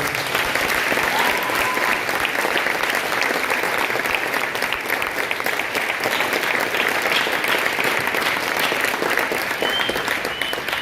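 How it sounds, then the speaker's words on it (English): An awards-ceremony audience claps steadily, a dense even round of applause that runs unbroken from start to finish at moderate loudness with no talk over it. "So give them a round of applause."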